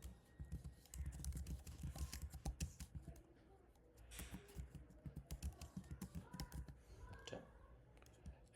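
Rapid, uneven clatter of keys on a computer keyboard while HTML code is typed, fairly close and steady with a few short pauses, and no one talking.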